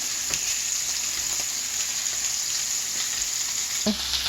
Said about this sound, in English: I'm going to flip my steak now because look at that nice juicy crust